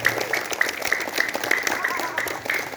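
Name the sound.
applause for first grade students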